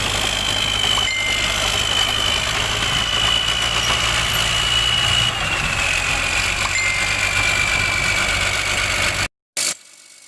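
A stubble-trampling vehicle used after the rice harvest idles steadily in Bang Sai, a loud continuous engine rumble with vibration that cuts off abruptly near the end.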